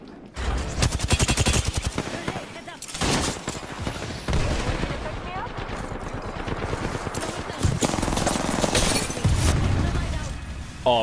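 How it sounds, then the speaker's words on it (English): Rapid bursts of Apex Legends gunfire, including sustained automatic fire and scattered single shots, loud and dense throughout with occasional clatter and breaking sounds. "Oh, I hear gunshots."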